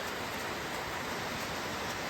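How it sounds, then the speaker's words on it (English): Steady, dense rain pours down outdoors at a barn construction site, a constant even hiss with no breaks and no voices. "it's raining pretty good now"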